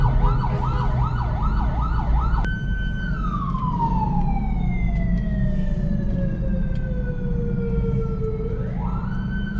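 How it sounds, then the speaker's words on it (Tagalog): A loud ambulance siren wails in rapid rising-and-falling cycles, then switches to a long slow descending tone before sweeping up again, over steady engine rumble in stuck traffic on a road in Manila. "mayroong ambulansya sa likod natin"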